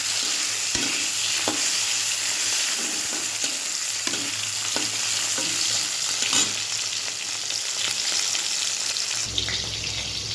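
Onion and a large tomato frying in a pan, a close, steady sizzle with repeated stirring scrapes and knocks of the spoon throughout, no talking.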